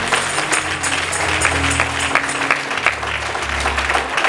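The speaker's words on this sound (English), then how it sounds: "So just give yourself a hand clap." Congregation in a church clapping steadily throughout, a dense sustained round of applause with an organ or bass tone humming underneath.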